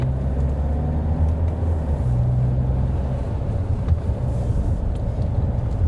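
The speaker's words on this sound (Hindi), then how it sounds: "बट आप ट्रैफिक देखो ये दिल्ली मेरठ एक्सप्रेसवे पे" Late-night traffic on the Delhi–Meerut Expressway makes a continuous heavy rumble of cars and trucks rolling by at close to moderate distance, with no voices over it.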